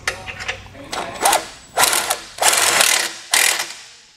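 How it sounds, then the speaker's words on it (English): Ratchet wrench tightening 18 millimeter nuts onto studs while installing a tow base plate on a 2019 Jeep Wrangler: loud, close bursts of rapid clicking, five or six runs separated by short pauses. "we can actually go ahead and put our 18 millimeter nuts back on the studs here. And we can actually go ahead and tighten these down."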